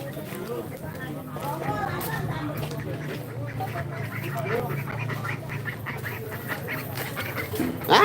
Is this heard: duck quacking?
yes